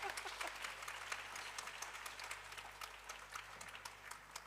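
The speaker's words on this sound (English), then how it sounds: "Stop clapping." A jazz audience claps steadily in sustained applause at a fairly low, distant level, a dense patter of hands with no talk over it.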